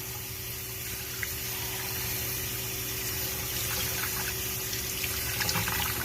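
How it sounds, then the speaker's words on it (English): Tap water runs steadily over tie-dyed fabric being rinsed, a continuous hiss and splash with a faint pump-like hum underneath, no voices. "Just rinse until the water is clear."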